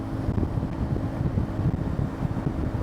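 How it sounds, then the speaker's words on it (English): Strong wind roars and buffets steadily throughout while riding a CFMoto 450 MT motorcycle at about 70 mph, a dense low rumble with no voices or other sounds breaking through. "It's pretty windy out here right now."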